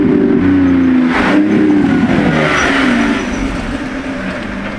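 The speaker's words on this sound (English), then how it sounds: "what a nice sounding hybrid V12" A Lamborghini Temerario with a hybrid V12 engine roars past close and loud. A rising engine note swells and then drops away as the car passes, fading over the last second or two.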